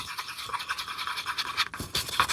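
Stirring a mixture by hand with a utensil in a bowl, a quick, steady swishing and scraping rhythm heard up close with no talking.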